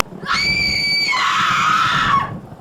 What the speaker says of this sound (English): Pam screamed a blood-curdling scream.